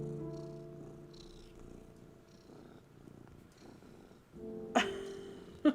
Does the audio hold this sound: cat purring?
yes